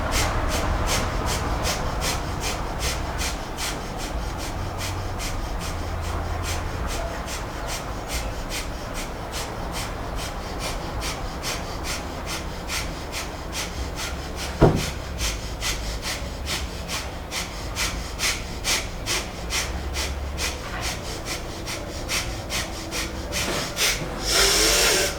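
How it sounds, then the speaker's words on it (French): Breath of fire yoga breathing, a long run of fast, rhythmic forceful nasal exhalations, close and steady for about twenty-five seconds, with one sharp click midway. "Respiration du feu."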